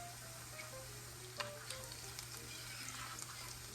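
A steady, soft sizzle of onions frying in a pan, continuous crackling with occasional small pops, no voices.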